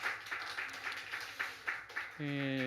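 Worshippers at a Sunday church service give a welcoming round of rhythmic group clapping, moderately close and even in tempo, before a sustained musical tone suddenly takes over at the end.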